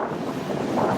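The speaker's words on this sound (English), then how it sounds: "Pretty windy." Steady wind buffets the microphone outdoors on a windy day near the water at Put-In-Bay, a continuous rushing roar with no voices.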